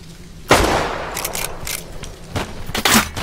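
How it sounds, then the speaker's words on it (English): Gunshots in the video game Dead Side, a few loud sharp cracks at irregular intervals, one near the start and a cluster toward the end, over low ambient game noise. "They're getting pretty accurate with those shots."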